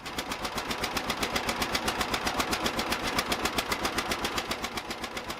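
A John Deere Model A tractor engine, with a leaking exhaust, runs for the first time in years, a loud, rapid and evenly spaced two-cylinder popping beat that holds steady throughout, close by.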